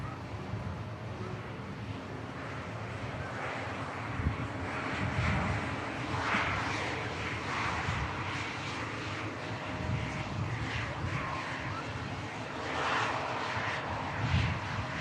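A large airliner rolls along the runway after landing, its engines holding a steady broad roar that swells slightly at times, heard from a distance with a commentator talking over it.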